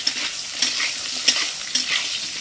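Tender pointed gourd lightly frying in oil, a close, bright sizzle carrying on throughout, broken by three or four sharp spatula scrapes at regular intervals.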